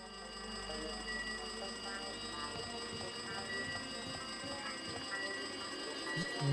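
A steady electronic ringing tone from the Danganronpa 2 video game holds throughout, fairly faint, over low scuffling game sounds.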